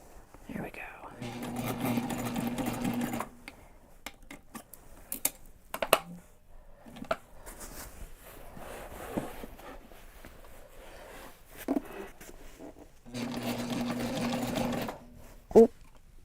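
A sewing machine stitches a large seam on a backpack in two steady bursts of rapid whirring, with quiet handling noises and soft talk in the pauses between.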